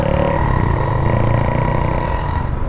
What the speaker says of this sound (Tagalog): Makikita nyo na yung barko. Ang ingay na ng motor.